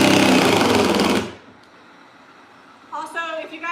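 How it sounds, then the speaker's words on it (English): A screw being driven into an old door, likely by a power drill or driver: a loud, steady whirring buzz for about a second, then a near-silent pause before some faint voices. "All right, hang on, I gotta screw this in."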